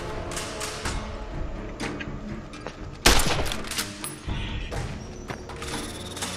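Gunshots at coyotes in the game Fallout New Vegas: several sharp reports spaced over a few seconds, with one loud, dominant blast midway and thuds and mechanical clatter among them.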